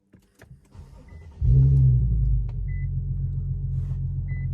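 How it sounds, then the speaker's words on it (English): An Infiniti Q50 starts and pulls out of a driveway, a deep engine rumble rising sharply after a few faint clicks, then settling into a steady close idle-like drone. "Just leaving the driveway right now."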